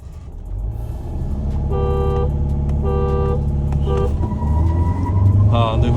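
A Mahindra XUV700 launches in a drag race against an Audi A4, a loud engine rising in pitch under hard acceleration. Steady road roar fills the background, and short tonal honks break in along with it.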